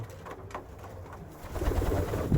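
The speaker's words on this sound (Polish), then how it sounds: "O, pocztuchy sobie jedzą." Pigeons cooing while feeding, a few soft nearby coos followed by a louder rustling burst of cooing and movement.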